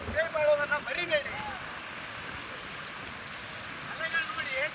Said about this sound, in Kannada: ಅಲೆಗಳು ಹೇಗೆ ಬರ್ತಾ ಇದೆ ನೋಡಿ